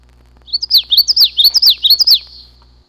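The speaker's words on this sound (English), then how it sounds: "I always tell people that their call goes witchity," A black-masked warbler sings a rapid, loud, close series of bright repeated 'witchity' chirps, about a dozen sharp notes in a quick rhythmic run against a quiet background.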